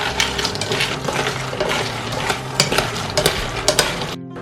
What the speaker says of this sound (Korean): 이렇게 볶아서 잡내도 날려주고 고소한 식감을 살려줄 거랍니다